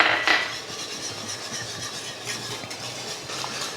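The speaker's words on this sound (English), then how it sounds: "Grab our butter and flour mixture and then just add that to our sauce here and give it a good whisk." Whisk scraping and tapping against a pan as a butter and flour mixture goes into a red wine sauce for coq au vin, a brief rough rubbing sound close by.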